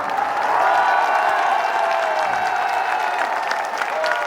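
Applause from a large crowd at a Congress campaign rally in West Bengal, steady sustained clapping with some cheering over a faint background hum.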